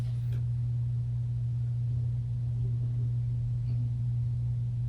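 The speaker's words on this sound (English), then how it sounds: "it's very nice and slow, but it's got a really distinctive humming noise to it" A Parrot Uncle Crestfield 52-inch ceiling fan on its low setting gives off a steady, loud, low electrical hum that runs unbroken throughout, with no voices.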